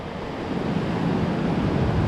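Rough sea surf and strong wind on the coast at Laweung, Pidie, a loud continuous roar of crashing waves and gusting wind noise filling the whole stretch, with no voices.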